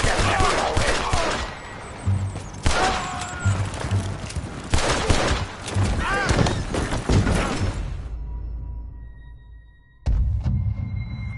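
Rapid, loud gunfire and a fusillade of shots in the video game Red Dead Redemption 2, dense bursts filling most of the scene, then a brief lull before another loud shot near the end, with voices speaking over parts of it.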